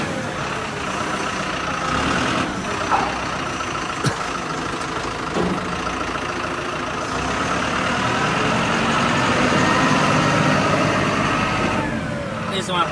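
A QT4-20 fully automatic concrete block machine runs with a continuous mechanical drone and hum. Sharp knocks and clanks punctuate it, and a voice talks nearby.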